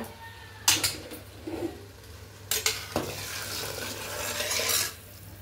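Boiling water is poured into a pot of chicken dum biryani rice, splashing and sizzling in a few bursts with metal pot and utensil clatter, close and fairly loud with no talking.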